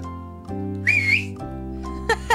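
A person whistles a short, bright tune without fingers, a single wavering note rising over a steady low musical background, followed by brief higher chirps near the end.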